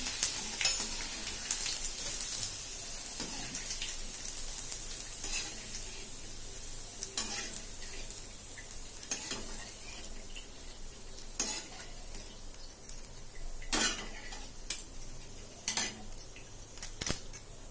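Leftover cooked rice tipped and shaken in a two-layer mesh sieve while making puffed rice at home, giving a steady rustling, clinking scrape with repeated sharp taps and rattles throughout, no voices.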